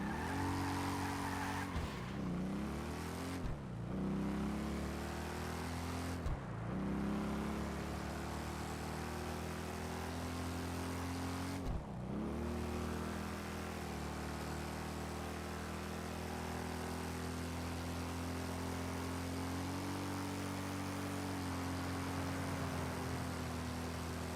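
LCC Sanctus motorcycle ridden in a video game, its engine droning steadily and loudly throughout, with several sharp revving dips and surges as it shifts or brakes, no talk over it.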